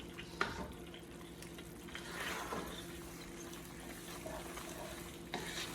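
Pasta tossed and stirred through simmering Alfredo sauce in a pan, wet squelching and gentle sizzle with a few utensil scrapes, close and moderately quiet with no talk.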